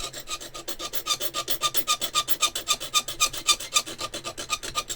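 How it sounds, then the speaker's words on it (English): A file rasps brass to shape in quick, evenly spaced strokes, a rhythmic metallic scraping close by with no speech. "I am filing the brass to shape"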